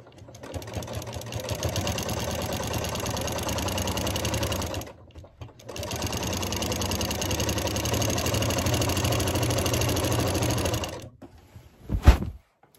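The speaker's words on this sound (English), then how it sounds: "And we're gonna just start sewing." A domestic sewing machine quilting runs in a steady rapid whirring stitch for about five seconds, stops briefly, then runs again for several seconds before a single sharp clunk near the end, close and loud.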